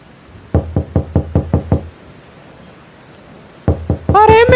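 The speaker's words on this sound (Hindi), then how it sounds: "वो उसका दरवाज़ा खटखटाता है।" Two bursts of sharp knocking on a door in a cartoon story, first a quick run of seven even raps, then a shorter set of four after a pause, with a rainy background hiss and a cartoon voice starting at the end.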